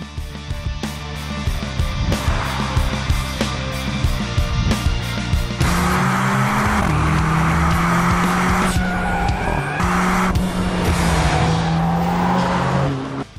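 A Mercedes-AMG A45 S with its hand-built engine drives hard, engine roaring loud and close through rising revs and gear changes, with tire squeal and skidding throughout.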